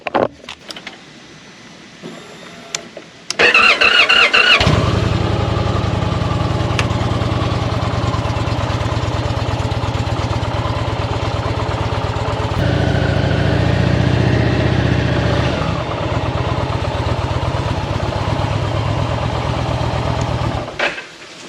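A new Indian motorcycle engine starts with a sudden loud burst, then settles into a steady, close idle that runs for the rest of the stretch without speech.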